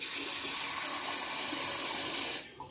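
Steady rush of water running from a tap for over two seconds, splashing as arrowroot is rinsed, then cutting off abruptly near the end.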